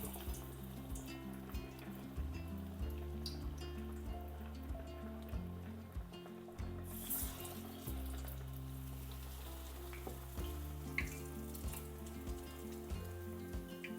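Moong dal vadas fry in hot oil with a soft, bubbling sizzle beneath steady low background music, the frying faint and partly masked, no speech.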